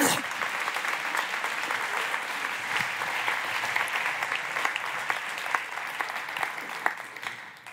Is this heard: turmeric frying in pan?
no